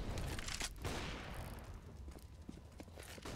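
Gunfire in a Counter-Strike match on the Cache map: a dense burst of rapid shots at the start, then scattered sharper pops and clatter over a steady background mix.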